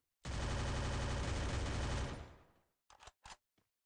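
Rapid automatic gunfire in the Free Fire video game, a loud sustained burst lasting about two seconds that tails off, followed by a few short separate shots.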